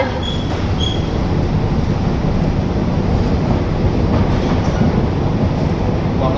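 An AC EMU local train on the Sealdah–Kalyani route pulls out of Kanchrapara station, heard from on board as a loud, continuous rolling rumble with a couple of faint high tones early on.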